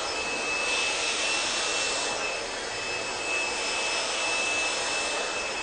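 Hair dryer blowing through curly hair at close range, a loud continuous airy roar that swells and dips slightly as it moves.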